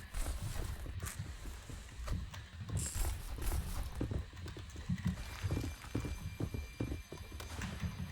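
Rhythmic hoof clip-clop from a trotting horse in the Roblox game Westbound, steady and fairly close, mixed with mechanical clicking and ambient game sounds, no talking.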